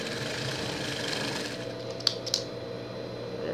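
A sewing machine stitches a pet's Minions costume, running with a steady close whir and a couple of sharp clicks near the end.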